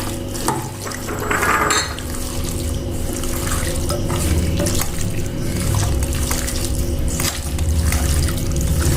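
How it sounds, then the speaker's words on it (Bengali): Hand-mixing marinated raw katla fish pieces with potatoes in a bowl: wet squelching and soft sloshing sounds continue steadily close-up, with no talk. "এবার আমি আলুটা দিয়ে আবার একটু মাখবো।"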